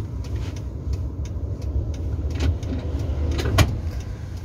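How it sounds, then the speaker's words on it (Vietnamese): Busy road traffic rolls past a moving car on an afternoon drive in South Korea: a steady low road rumble with several brief swishes of passing vehicles, one louder pass near the end. "Xe cộ rất là nhiều ha."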